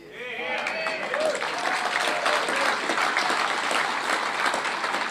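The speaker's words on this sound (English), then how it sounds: "That got them clapping" Crowd at a political rally breaking into applause that swells quickly and holds steady, with cheering and voices mixed into the clapping.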